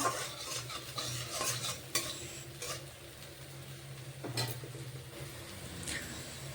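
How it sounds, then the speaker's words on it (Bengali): Spice paste (masala) being stirred and fried in oil in a pan, with soft sizzling under repeated scraping strokes and light metallic taps of a spoon against the pan. "মশলাটাকে খুব সুন্দর করে কষাতে থাকবো দেখুন মশলা সুন্দর কষানো হচ্ছে"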